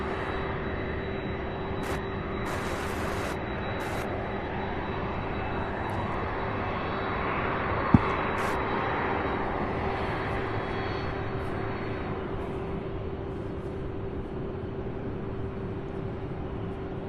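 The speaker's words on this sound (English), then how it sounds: "The rate of climb on those MD-11s, that's just something else." A McDonnell Douglas MD-11 jet climbs out after takeoff at Louisville airport, a broad steady engine roar holding loud and close throughout, with a thin whine on top and brief sharp noises early on.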